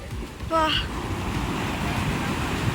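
Sea waves wash continuously onto a beach at Uganthai under a steady roar of wind, with a brief tonal sound early on and no clear talk.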